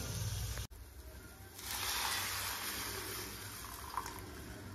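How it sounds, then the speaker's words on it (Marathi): Hot water is poured into a curry simmering in a pan, a soft gushing splash that swells after a short pause and keeps running at moderate level, with a quiet hum behind it. "आता आपल्याला गरम पाणी ऍड"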